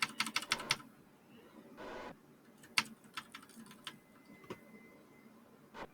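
A noisy computer keyboard is tapped while flying a spacecraft in Kerbal Space Program, with rapid clustered clicks, a short sustained rattle, then scattered single taps, close and crisp with no talk.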